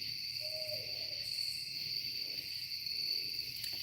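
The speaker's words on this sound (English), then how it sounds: "Did you guys hear the owl?" Owl hooting in a forest at night, a single soft call rising briefly above a steady chorus of crickets and insects that fills the whole stretch.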